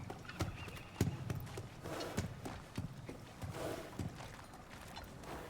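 A horse's hooves clip-clop in God of War Ragnarok, a steady walking rhythm of close, moderately loud hoof strikes with faint creaks and snorts, over a quiet background.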